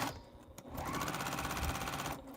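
A sewing machine stitches a commissioned T-shirt quilt in a quick, steady, close-up mechanical whir that runs for about two seconds, softly recorded and without talk.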